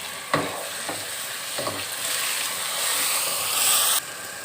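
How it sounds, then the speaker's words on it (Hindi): Tomatoes, green chillies and spices frying in a pan for cabbage sabzi, a steady close sizzle with a few clinks of a stirring spoon early on, the sizzle cutting off near the end. "मसाले जात ऐड करेंगे और टमाटर को हम अच्छी तरह भुनाई कर लेंगे।"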